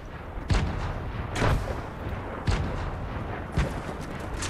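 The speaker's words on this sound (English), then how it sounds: "Someone's throwing grenades." Grenades exploding in Fortnite Chapter 2 Season 6, four heavy booming blasts spaced about a second apart over a constant rumble of game noise, with no talk.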